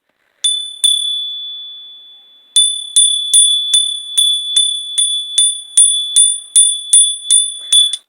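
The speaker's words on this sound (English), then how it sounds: "I know not everybody likes to hear the bell." A small, bright bell rung during a tarot reading: two clear strikes, a pause, then about a dozen quick, evenly spaced rings, each with a short shimmering decay, loud and close with no talking.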